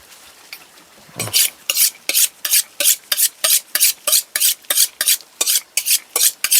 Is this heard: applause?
no